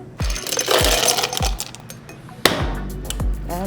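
Cocktail shaker with ice being shaken for a rosé and berry drink, a rapid rattling clatter with a few sharp knocks, close and fairly loud, with no talk over it.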